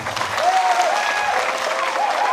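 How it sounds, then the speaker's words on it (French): Loud, sustained applause from a live concert audience, dense and steady throughout, with a faint sung or held vocal tone running underneath. "je voudrais vous demander de les applaudir"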